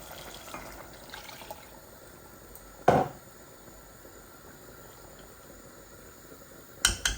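A glass of water goes into meat cooking for a bhuna, with a short splashing pour against a low bubbling simmer and a second brief splash near the end.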